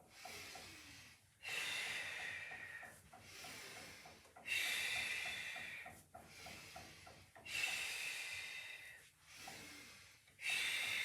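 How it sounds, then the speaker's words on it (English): Breathing during a Pilates exercise: a series of loud, close exhalations, rhythmic rushing breaths out separated by quieter inhales, repeating about five times over eleven seconds with no talking. "Breathing in, breathing out."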